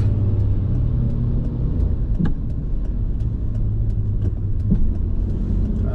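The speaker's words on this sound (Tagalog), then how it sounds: "Traffic na naman dito." Road traffic on a busy morning street rumbles steadily with cars passing close by, a continuous dense engine and tyre roar with faint clicks and no speech.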